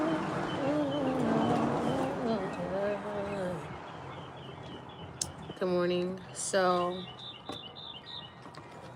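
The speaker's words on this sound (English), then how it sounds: "all these birds, all this beautiful sounds" Morning birds chirp and call in the background with a few clear tweets, faint to moderate and partly under a person speaking.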